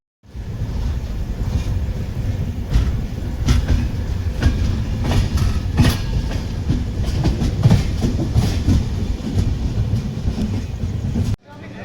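Passenger train on the Chennai to Delhi route rolling along the tracks, a steady loud rumble with rhythmic clickety-clack wheel beats and rattling carriage noise throughout, ending abruptly.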